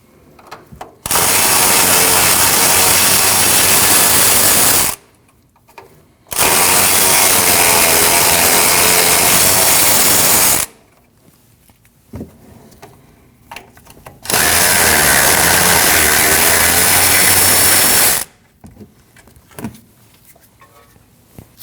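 Bursts from a power tool run loud and near, three long runs of several seconds each with quiet pauses between, while 14mm top strut nuts come off a Nissan NV2500 during a front strut replacement.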